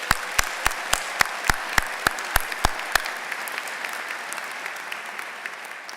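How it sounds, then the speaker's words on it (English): Graduation audience at a spring commencement ceremony claps in a short burst of sharp, distinct claps that fade after about three seconds, leaving faint room noise. "Let's give a quick round of applause for everybody graduating today,"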